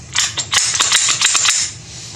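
Sharp mechanical clicks and snaps from a Smith and Wesson SD9 pistol being function tested unloaded, with trigger and slide actions in a quick close series.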